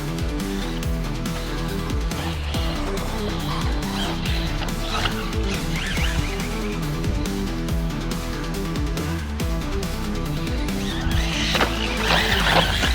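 A HOSIM M13 MOXLIN 3S brushless short course RC truck drives hard, its electric motor whining continuously under scrabbling tires and gravel crunch, with bursts of skidding and scattered impacts throughout.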